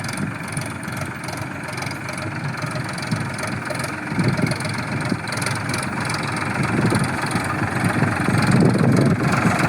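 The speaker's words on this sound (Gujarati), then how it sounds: "અવાજ આવે છે ટ્રેક્ટરનો" A tractor engine idles with a steady, mid-to-low chugging rumble nearby while cement or sand sacks are loaded onto it, the engine sound holding constant and slightly swelling toward the end.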